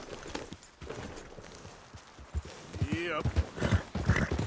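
A horse galloping in the video game Red Dead Redemption 2, its hoofbeats growing louder and more rhythmic, with a brief whinny-like sweep and a short spoken word over it.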